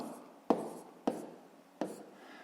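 Pen or chalk strokes tap out three sharp, separate marks while numbers are written by hand during a fifth-grade maths lesson, close and quiet with a faint hiss between the strokes.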